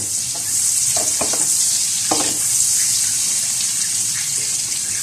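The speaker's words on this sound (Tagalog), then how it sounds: "Lumabas lang yung aroma nila ng bawang sibuyas." Garlic and onion sauté in a pan for carbonara, just until fragrant and not browned. A steady, fairly loud hiss of frying fills the whole stretch, with a few faint utensil taps near the start and no talking.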